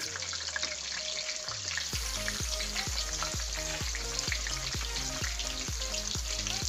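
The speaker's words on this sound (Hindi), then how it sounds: "ये सारी चीज़ें इकट्ठी हमारी फ्राई होंगी" A constant crackling sizzle of garlic and chilies frying in hot oil, with a regular low bubbling pulse beneath it. Steady throughout and fairly close.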